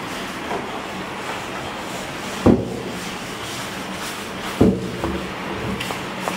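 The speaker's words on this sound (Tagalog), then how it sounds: "hindi na natigil yung malakas na ulan at hangin" Steady rushing wind and heavy rain with a low roar during Typhoon Kristine in the Philippines, broken by two brief heavy thumps, no voices.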